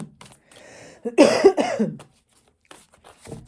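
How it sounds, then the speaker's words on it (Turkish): A single harsh, close cough bursts out in a couple of rough pulses, followed by quieter breathy sounds. "İşte böyle öksürük de yapıyor maalesef."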